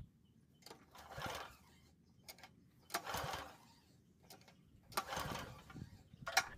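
A Toro walk-behind lawn mower fails to start as its key is turned with the carb choked. Four separate bursts of mechanical clatter sound up close, each about a second long, with quiet gaps between them and no steady engine running.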